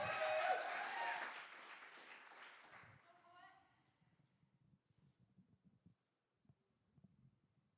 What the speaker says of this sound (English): start clapping now for Rudy J.